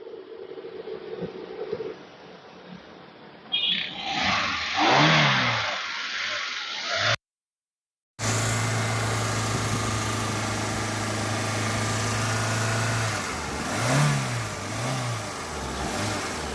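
The engine of a used small single-owner car idles and is revved several times in rising and falling surges, close and fairly loud, with a brief dropout midway and no talking.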